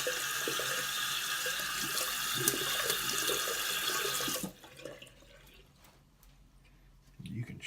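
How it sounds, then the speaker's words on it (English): Tap water runs through a synthetic shaving brush with a steady close splashing rush for about four and a half seconds. It then stops, leaving faint drips and small handling sounds. "You can run water directly in them, like so."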